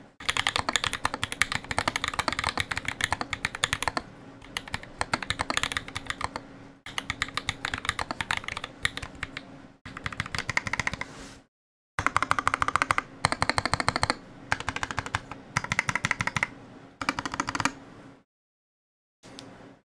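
Fingers type on a Melody 96 mechanical keyboard fitted with Aqua Zilents silent switches and GMK keycaps, in quick close-up bursts of muted key presses separated by short pauses.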